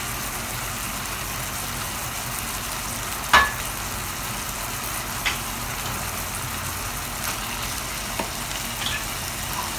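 Tomatoes and onions fry in a pan with a steady, even sizzle at close range, broken by a couple of brief knocks or clinks.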